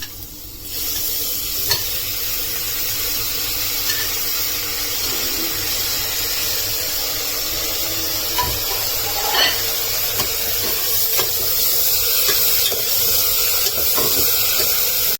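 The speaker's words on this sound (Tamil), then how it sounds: "வெங்காயம் நல்லா வதங்கி வந்துருச்சு. இப்போ நான் தக்காளி சேர்த்துக்கிறேன்" Chopped tomatoes go into sautéed onions frying in a pan for a village-style bottle gourd kootu, giving a steady sizzle and hiss with occasional stirring scrapes, fairly quiet and continuous throughout.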